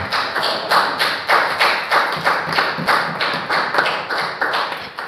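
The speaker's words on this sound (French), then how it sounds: "Acclamons pour le Seigneur." A church congregation applauds for the Lord during a Sunday worship service, loud rhythmic unison clapping in a steady beat filling the room without pause.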